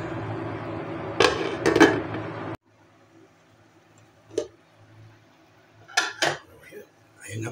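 A lid is set back onto a pot of sinigang na tilapia, a sour fish soup with vegetables, giving two short bursts of clattering clinks over a quiet kitchen background.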